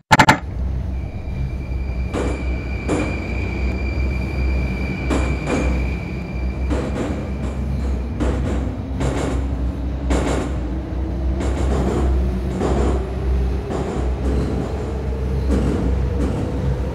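A commuter train on the KRL line runs between stations with a loud, steady rumble of wheels on rails, rhythmic clacks over track joints and a faint rising whine as it gathers speed, with no talk.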